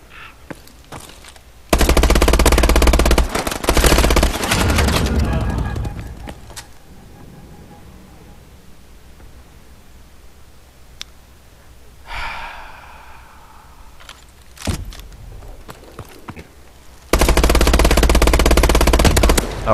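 Video game gunfire in two loud, sustained bursts of rapid shots, separated by a quieter stretch with breathing, a few faint clicks and a short scrape.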